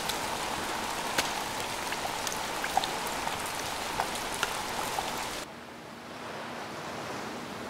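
Steady rain pours onto a tidal mudflat, a dense close hiss with scattered sharp droplet ticks that suddenly cuts to a quieter, duller wash near the end.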